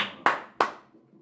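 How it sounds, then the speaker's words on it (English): Two sharp, dry claps from bony hands, evenly spaced about a third of a second apart, close and fairly loud, each with a brief ringing decay. "You hear the sound of bones as he claps"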